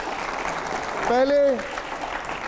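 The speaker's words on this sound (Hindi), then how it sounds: "जोरदार तालियां" A studio audience at a political debate show breaks into loud, sustained applause that swells in the middle, while a voice speaks over it.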